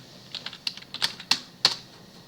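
Quick, uneven keystrokes on a computer keyboard as a password is typed into a terminal, about eight close, crisp clicks with short gaps between them, no voices.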